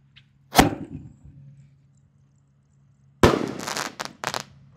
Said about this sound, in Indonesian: lanjut yang kita nyalakan di sini ada Bima Sakti 5 Romain Candle yang lebih jumbo bosku. Sudah menyala, siap meluncur.